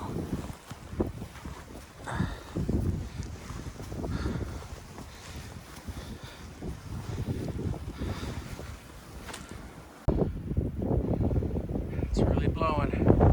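A Cheyenne blizzard drives strong gusting wind through a backyard and alley, roaring and buffeting the microphone with heavy rumbling, while someone speaks briefly over it.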